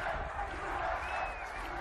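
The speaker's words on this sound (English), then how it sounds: "And the crowd is loving it." A rugby crowd cheering at the USA vs Canada Rugby World Cup 2019 qualifier, a dense, steady roar of voices held at even loudness with a commentator talking over it.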